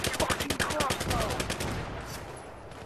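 Rapid automatic bursts from a PP-2000 submachine gun in Battlefield 3, a tight run of loud, close shots for about two seconds before trailing off into echo and rumble.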